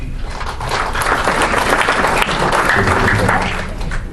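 Audience applause at a county commissioner primary debate, a dense steady wash of clapping from a room of people lasting several seconds, fairly loud and close.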